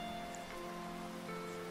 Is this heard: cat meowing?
no